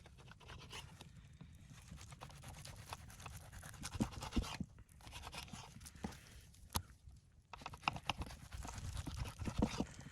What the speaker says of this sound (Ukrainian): І отаким макаром нарізаємо наш баличок.